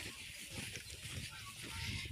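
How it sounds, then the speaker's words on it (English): Birds call faintly outdoors in dusty Narok, Kenya, near a lake where cattle are herded. The honking, fowl-like calls sit low in a steady hiss of open-air ambience. "I only hear the birds."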